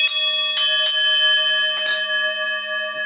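A hand-struck bell rings with several sharp strikes in quick succession, each leaving a long bright shimmering tone that rings on and slowly fades, heard alone at close range.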